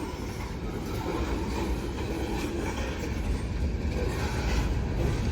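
A CSX freight train, eastbound with a single hopper car, rumbles past close by, a continuous heavy roar with faint rhythmic wheel clatter, steady and loud throughout.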